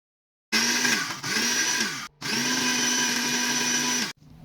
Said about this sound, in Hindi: अभी मैं इसे लेकर जाऊंगी, ग्राइंड करूंगी मिक्सर में